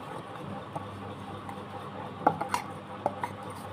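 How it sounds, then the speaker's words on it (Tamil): A spoon clinks against a bowl while tea cake batter is mixed, a few light scattered taps over a soft, steady background, with faint voices in the distance. "இப்போ இதை நல்லா மிக்ஸ் பண்ணிக்கலாம்."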